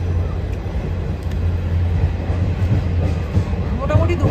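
Train running on the Siliguri to Murti line, a steady low rumble and hum of the carriage in motion throughout, with faint voices of passengers under the noise.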